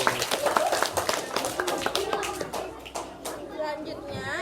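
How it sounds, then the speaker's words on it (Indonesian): Schoolchildren clap their hands in a classroom, a lively run of uneven claps lasting several seconds, mixed with children's voices and chatter. "tepuk tangan ya."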